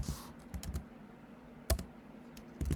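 Computer keyboard typing Python code, a few short bursts of key clicks separated by pauses, close and clear with no talking.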